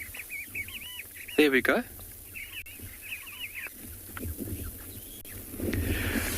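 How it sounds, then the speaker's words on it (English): A few Makwa sandgrouse fly overhead at sunrise on a Tswalu safari, giving repeated chirping calls. The calls are moderately distant, mixed with brief nearby rustling and a person speaking. "You could hear the calls from the Makwa sandgrouse."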